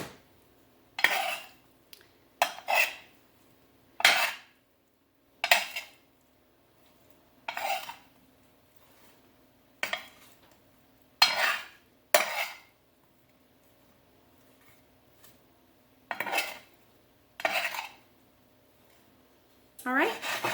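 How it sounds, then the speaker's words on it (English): Roasted red potatoes being stirred in a metal pan, with a dozen separate bursts of scraping and clattering from a utensil, separated by near-silent pauses. "Now go ahead and give these a stir."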